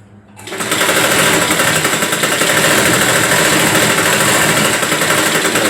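A sewing machine stitches a half-inch seam on a blouse strip, starting abruptly after a brief quiet moment and then running as a loud, continuous, fast mechanical whir without pause.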